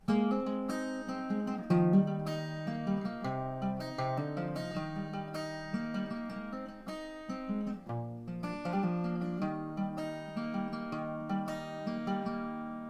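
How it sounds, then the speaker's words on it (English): Acoustic guitar plays the second interlude of a song, a steady run of picked and strummed notes and chords, close and clear, alone without talk. "And that's how you play that second interlude."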